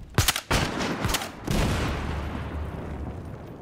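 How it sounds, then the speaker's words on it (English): Gunfire in Battlefield Hardline: a rapid cluster of sharp shots at the start, then another burst, trailing into a rumbling, noisy battle ambience. "Shots fired."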